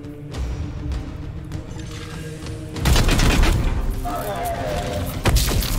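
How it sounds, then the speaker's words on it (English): Supporting gunfire rattles in the Warhammer 40,000: Chaos Gate Daemonhunters video game: sustained bursts of shots and booms that grow louder and denser midway, with a voice talking over the battle noise. "Trigger supporting fire."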